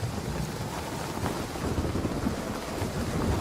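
A video game trailer carries steady heavy rain with low rumbling thunder, a dense, continuous wash of sound with no voices.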